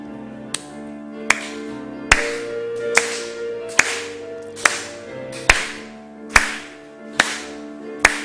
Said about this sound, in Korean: 함께 부르는데 박수 치면서 찬송하는 시간을 좀 갖겠습니다